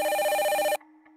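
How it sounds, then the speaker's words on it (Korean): A telephone rings once in a Korean crime documentary reenactment set in February 2000, a loud steady electronic tone that cuts off abruptly after under a second, followed by near silence. "전화 한 통이 걸려왔습니다"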